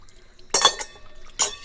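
Dishes, plates and bowls being washed give two brief, close bursts of clinking and splashing water, separated by near quiet.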